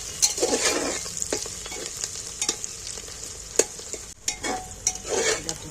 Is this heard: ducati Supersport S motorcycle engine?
no